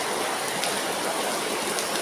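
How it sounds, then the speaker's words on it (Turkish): A stream of water runs and trickles through Kaklık Cave, a steady, even rushing that holds close and constant throughout, unaccompanied by talk. "İşte sular şırıl şırıl akıyor sular"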